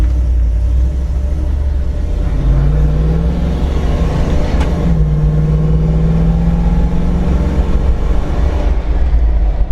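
An LS V8-swapped Toyota Land Cruiser pulls hard from a standstill, its loud V8 engine rising in pitch as it accelerates, a deep continuous roar close up with no talking.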